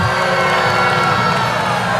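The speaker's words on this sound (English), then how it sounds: "And there's an uproar in the crowd." A volleyball arena crowd at a men's college match between Hawaii and UC Santa Barbara erupts in a loud, dense uproar of cheering and shouting that holds steady throughout.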